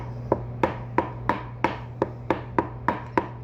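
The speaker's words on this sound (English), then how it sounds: "we're just chopping our egg yolks" A knife chops hard-boiled egg yolks on a cutting board kept for eggs and vegetables, striking in a steady, even rhythm of about three crisp taps per second, close and clear with no voices.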